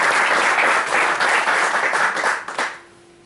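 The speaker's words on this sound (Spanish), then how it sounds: "Un aplauso a la Biblia." A church congregation at a men's retreat claps in loud, dense applause that holds steady for over two seconds, then fades and stops quickly.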